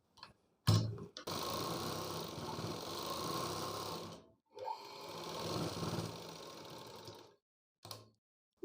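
A sewing machine stitches a blouse in two long, steady bursts separated by a short pause, with a brief final spurt, close and clear with no speech.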